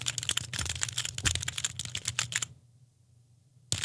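Rapid typing on a mechanical keyboard with clicky switches, a dense close burst of key presses for over two seconds, a pause, then more keystrokes resuming.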